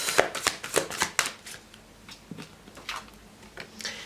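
Tarot cards are shuffled by hand, giving a rapid run of crisp riffling slaps and taps, close up with uneven rhythm, followed by softer, sparser card flicks with no talking.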